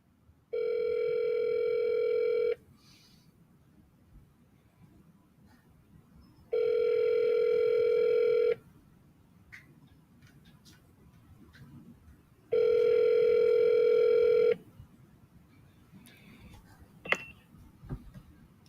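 Three loud, identical bursts of out-of-service telephone tones, each about two seconds long, come evenly spaced with quieter gaps of faint background noise between them.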